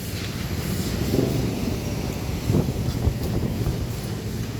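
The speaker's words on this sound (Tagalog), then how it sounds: "Lakas ng hangin, sarap." Strong wind buffets the microphone outdoors on the way down to a stop house with many motorcycles nearby, a steady low rumbling roar with a few louder gusts and no talking.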